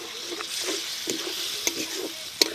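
Beaten yogurt hits a pan of frying spices for a stuffed pointed gourd (potol) curry and is stirred in. A continuous close sizzle carries scraping strokes and a few sharp clicks from the spoon.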